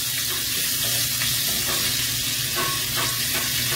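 Garlic fries in hot oil until browning, a loud, dense, unbroken crackling sizzle heard close up with faint stirring scrapes and no talk.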